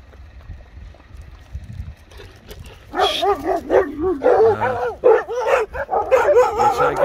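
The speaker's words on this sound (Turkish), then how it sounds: "Sanki çoban köpekleri burada." Several shepherd dogs bark and yip in quick, overlapping bursts after a quieter opening, close by and fairly loud, with a few whimpering notes mixed in.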